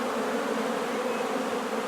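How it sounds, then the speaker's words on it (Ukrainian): Honeybees buzz around blooming apple trees in Vilshany in May: a steady, dense, continuous hum from many bees, fairly close and even in loudness, with no voices. "Кілька днів тому ми завезли сюди е, бджолу"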